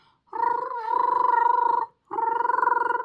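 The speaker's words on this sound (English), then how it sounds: "We've all heard her bark. How does she bark? She barks like this." A pet dog's strange, cat-like vocalization: two sustained, whiny meow-like calls, the first long and wavering, then a short gap and a second drawn-out call, close and fairly loud with no talking.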